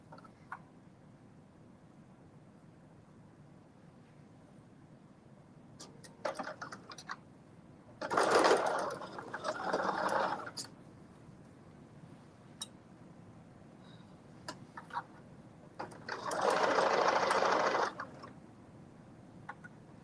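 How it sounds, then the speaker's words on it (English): A sewing machine stitches the side seams of a McCall's 8037 garment in two close, steady runs of a few seconds each, set apart by quiet pauses with scattered small clicks and handling noises. "now I am going to sew both of the side seams up"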